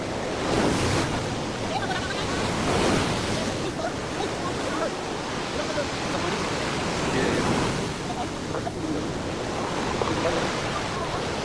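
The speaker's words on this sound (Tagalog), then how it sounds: "O, malakas ang alon dito, malakas ang alon." Strong sea waves driven by Typhoon Julian crash and surge in a loud, continuous roar, with repeated swells and heavy wind buffeting the microphone up close.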